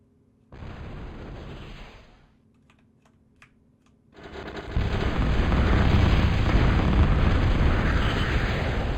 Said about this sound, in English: Bombing run for me, coming in.